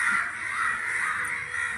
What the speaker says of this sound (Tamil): இந்த காக்காலாம் எப்படி கத்துது பாரு